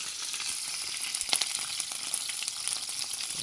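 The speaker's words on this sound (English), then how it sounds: "So as you can see that bubble, check it out, frying." Steady close sizzling of curry frying in a pot with soy chunks and vegetables, with crackles and pops over a constant hiss and no talking.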